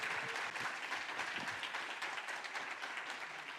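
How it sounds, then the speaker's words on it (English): Warm audience applause for a cybersecurity analyst taking the stage at a security conference: dense, even clapping from a room full of people, fairly quiet and sustained throughout. "So please give it up for her. Well, with warm applause."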